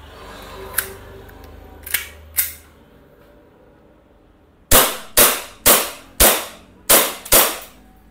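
An airsoft pistol fires in semi-auto mode. Three light, sharp cracks come first, then after a pause six much louder snappy shots in an even, deliberate rhythm, close to the microphone, with no talk.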